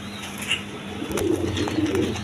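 Pigeons coo softly at close range, a few low rolling calls in the second half over a steady background hum, with a faint brief chirp early on.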